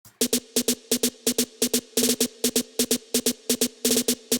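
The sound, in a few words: trap snare drum beat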